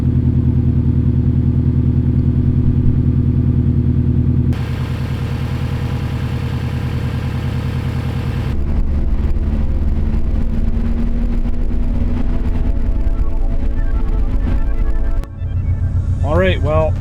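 A repaired, previously smashed Subaru STI engine idles loud and close, a steady rumble that shifts tone partway through, with a brief voice near the end.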